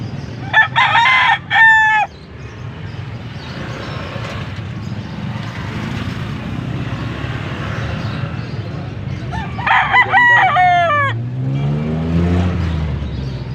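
Sweater roundhead gamefowl roosters crow loudly, two bursts of cock-a-doodle-doo near the start and another around ten seconds, over steady background murmur and faint voices, with a low passing vehicle-like rumble at the end.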